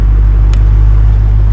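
Dodge Hellcat widebody running with a steady low engine rumble and constant road drone heard from inside during a drive, loud and even throughout with no talking.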